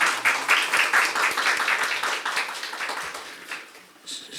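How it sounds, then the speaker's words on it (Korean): An audience at an academic policy forum claps to welcome a presenter, a dense, steady wash of many hands that holds for several seconds and thins toward the end, with no one talking. "박수로 환영시 부탁드립니다."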